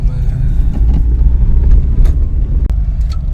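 Car driving off, a loud low engine rumble close by with road noise, and a voice talking over it briefly.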